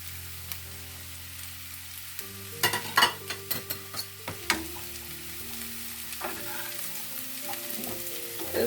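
Onion and carrot frying with zucchini in a pan, a steady close sizzle with a cluster of sharp stirring and scraping strokes partway through, then continuous frying hiss.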